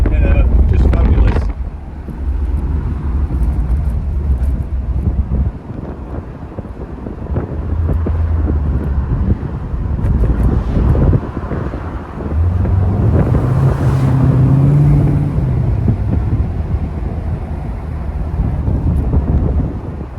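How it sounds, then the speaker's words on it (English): Car exhaust from an open-top car cruising along, a steady low engine rumble under loud wind buffeting the microphone throughout, with brief snatches of a voice partway through. "or at least hear the exhaust, because it sounds beautiful"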